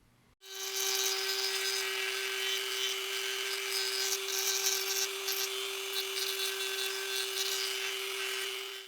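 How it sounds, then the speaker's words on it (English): Dremel rotary tool with an inverted cone burr carving a scrap wood feather, a steady high whine with a constant pitch and a gritty grinding edge, running close and uninterrupted after a brief start. "now I'm gonna come back with that inverted cone burr, and I'm gonna clean up all these little gouges"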